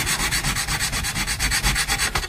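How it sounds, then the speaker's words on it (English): Sandpaper rubbed in quick back-and-forth strokes over guitar frets, a steady rhythmic scratchy rasp with regular pulses, close and fairly loud, with no voices. "get a series of different sandpapers out, and we'll use a sort of progressive sanding process"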